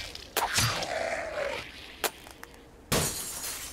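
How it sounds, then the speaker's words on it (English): Glass being struck and shattering inside a looted mansion in Cataclysm: Dark Days Ahead, with a few sharp, crashing breaks separated by a low, groaning rumble. The sounds are fairly close and there is no talk. "Is that them hitting the glass?"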